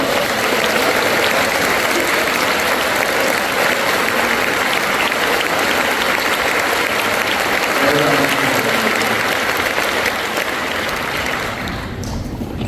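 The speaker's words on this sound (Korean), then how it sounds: "목사님 나오실 때 뜨겁게 박수로 열렬히 환영하겠습니다." Congregation at a Full Gospel church revival in Los Angeles applauding warmly as the pastor comes forward. A dense, continuous roar of many hands clapping stays loud and even for about ten seconds before tapering off.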